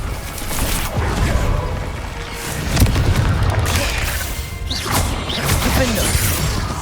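The Confringo fire spell in the video game Hogwarts Legacy, dense loud crashing blasts and whooshes from combat, heavy and continuous.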